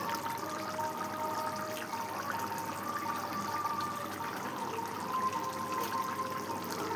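Fish are dropped into hot oil in a pan for a fish curry with spiced potatoes, giving a continuous soft hiss and bubbling sizzle that holds steady at a moderate level throughout.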